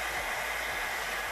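A hair dryer blows steadily on fake snow, a constant close airy roar with no talk over it.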